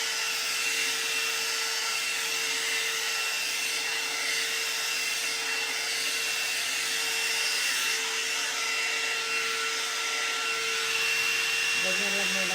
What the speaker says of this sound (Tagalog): Baka mag-dry yung buhok ko sa kaka-blower.